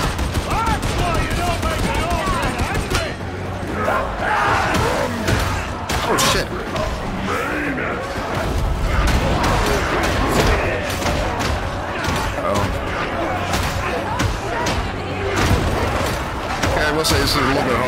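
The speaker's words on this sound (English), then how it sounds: "I'm shooting my guy" Heavy, constant gunfire and booming impacts from Warhammer 40,000 Darktide combat, with a player talking over the steady barrage of shots and thuds.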